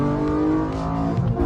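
A Honda Accord V6 engine revs hard with a deep, growling roar, loud and close, holding steady for a moment.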